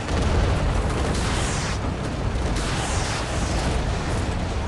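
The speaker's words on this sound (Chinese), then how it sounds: "靠近的时候就是拿炮轰他们" Tank cannon fire in the video game Tanks A Lot, a dense, continuous barrage of booming blasts and explosions, loud and close, with no speech.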